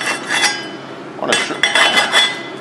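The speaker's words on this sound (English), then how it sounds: "once that slag cools down, it'll chip right off" A hand file with teeth ground into it chips cooled welding slag off a 6-inch Schedule 40 steel pipe after an SMAW hot pass, giving close metallic clinks and scrapes in short bursts, with a brief spoken phrase.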